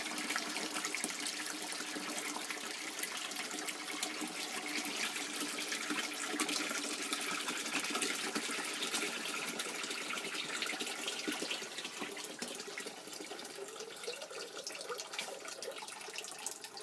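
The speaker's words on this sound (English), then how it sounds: "next I've added 2 liters of warm water to the giant plastic bag that held the juice." Warm water pours steadily into a large plastic bag that held wine kit juice, a continuous hissing gush at moderate level that eases slightly toward the end, with no talking.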